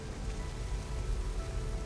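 Steady rain falls in the video game No Man's Sky, a soft, continuous hiss of drops on surfaces at low volume, even and unbroken with no voices.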